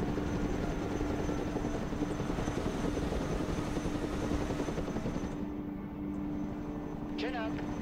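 A Chinook helicopter in the Broken Arrow video game, its rotors giving a steady, loud droning thrum, with voices talking over it and a short electronic chirp near the end.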